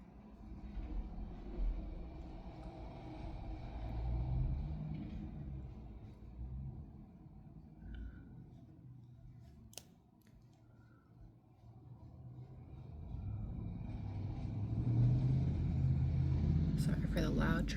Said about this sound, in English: Sorry for the loud traffic.